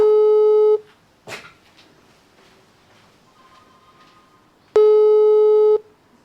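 A telephone ringback tone: two steady electronic tone bursts, about a second each, separated by a quiet gap with a brief click between.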